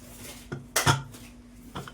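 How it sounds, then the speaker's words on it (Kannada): A pressure cooker lid is set in place in a home kitchen, giving a few short metallic clanks, the loudest in the middle, close by and alone. "ಈಗ ಇದನ್ನ ಕುಕ್ಕರ್ ಮುಚ್ಚೋಣ."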